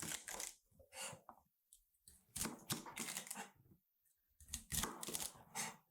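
A knife chops asparagus into short pieces on a cutting board, sharp clustered taps in quick bursts separated by pauses, close and crisp, with no talking.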